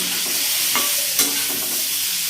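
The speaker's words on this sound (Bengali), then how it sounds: "মশলাটা দিয়ে কষছি" Spice masala with green chilli, salt and turmeric is sautéed in a pan, giving a close, steady sizzle with a few stirring scrapes and one sharp clink, with no voices.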